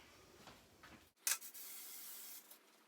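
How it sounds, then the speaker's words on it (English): Cooking spray hisses onto aluminum foil lining a sheet pan at a sink, a short burst after some faint rubbing, then a steady close spray lasting about a second. "Now we're taking our cooking spray and we're going to coat the aluminum foil really well."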